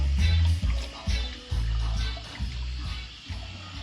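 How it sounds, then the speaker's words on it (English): Cooking oil pours into a skillet in a series of close, low glugging pulses, about half a dozen uneven surges over a few seconds, with no speech. "So I'm pouring my oil so"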